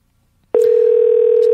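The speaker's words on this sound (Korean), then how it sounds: "전화 연결을 한번 해보도록 하겠습니다." Telephone dial tone as a phone call is placed: after brief silence a loud, steady, continuous tone begins abruptly and holds to the end.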